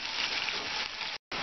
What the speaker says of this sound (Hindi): अब हम इसमें ये प्याज डाल देंगे और प्याज को हम अच्छे से फ्राई कर लेते